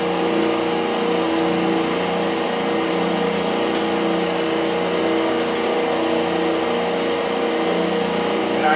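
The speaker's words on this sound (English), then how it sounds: "While the machine's still turning, and while the spindle's on, you can use the manual feed also." An Abrasive Machine Co. 12 x 24 inch Hydrabrasive 1224 surface grinder running with the spindle on, giving a loud, steady, unbroken mechanical drone with constant tonal hum throughout.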